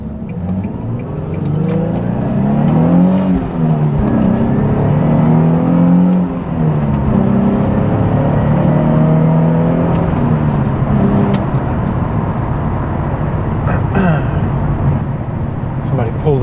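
A Nissan 350Z Track Edition accelerates on a city road, its engine note climbing and falling through the revs as the car picks up pace, loud and close from inside the car.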